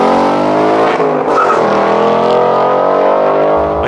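2018 Ford Mustang engine and exhaust roaring loudly and close, a rich, rising multi-toned note holding strong as the car accelerates hard, with a brief dip before building again.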